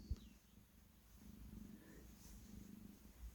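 A pet cat purring very faintly up close, a low continuous rumbling pulse under a quiet room background.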